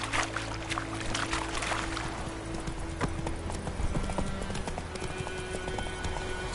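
Horse hooves clip-clop in a steady galloping rhythm from Roach, the horse in The Witcher 3, a continuous close patter over ambient outdoor game sound.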